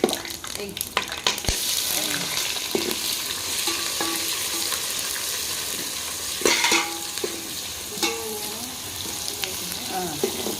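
Onions frying with whole spices such as cloves, cinnamon, coriander and cumin for a goat head meat curry, a steady loud sizzle with scattered stirring clatter and occasional sharp knocks.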